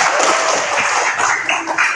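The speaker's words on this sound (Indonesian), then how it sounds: "Oke, bagus, tepuk tangan untuk Nova." Students clap their hands in a classroom, a short, loud, dense burst of applause with no talking.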